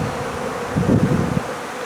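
A honeybee swarm moving in outdoors in March, a steady low buzzing hum that swells briefly as bees fly near, with faint rustle and no talking.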